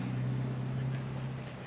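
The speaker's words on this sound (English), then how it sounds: "It's maybe 2 litre engine. It does struggle up hills" A camper van's roughly 2-litre engine strains uphill in the Southern Alps, a steady low droning hum with wind noise, continuous and fairly loud.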